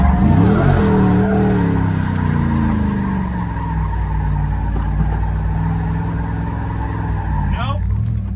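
A GMC Denali drift truck fitted with a hydraulic handbrake, its engine loud and revving near at hand while the tires skid on dry pavement, with someone talking over the noise.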